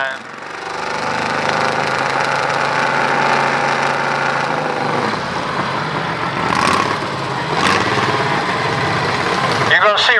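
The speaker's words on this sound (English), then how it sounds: "Russell Lopes on his tractor he calls Hammer Time." Pulling tractor engine at a county fair tractor pull roars loud and steady, a gritty hammering drone that holds nearly unchanged throughout, with an announcer's voice partly under it.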